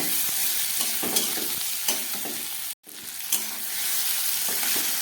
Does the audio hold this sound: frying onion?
yes